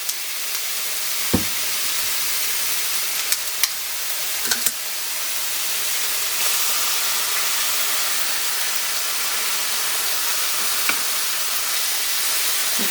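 Taco meat and sausage with sauce sizzle steadily in a pan, a continuous close frying hiss with a few faint clinks of a utensil against the pan.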